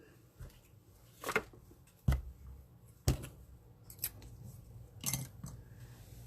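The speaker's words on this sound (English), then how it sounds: "I'm going to use my ribbon shears, so we'll cut that like so" Ribbon shears cutting ribbon for a stamped paper craft, five or six crisp snipping clicks at irregular intervals, close and fairly quiet with no talk.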